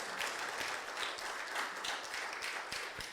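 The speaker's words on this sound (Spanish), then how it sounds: "Dele un fuerte aplauso al Señor en acción de gracias." Strong congregational applause in a church service, many hands clapping steadily with distinct sharp claps, moderately loud and without speech.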